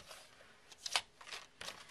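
Paper for a handmade valentine card being trimmed, a few quick crisp cutting snips and rustles spread across two seconds, fairly close and quiet with no talking.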